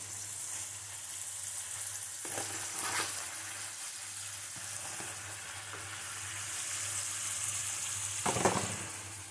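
Sliced mushrooms going into a pan of chicken livers frying for pâté, with a loud, continuous close sizzle and crackle, a few stirring scrapes and bursts of spatter, and a low steady hum underneath.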